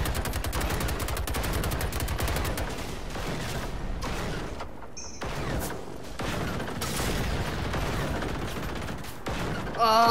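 Rapid automatic gunfire in a video game, a loud, dense stream of shots that thins and pauses midway before resuming with heavy mechanical clatter.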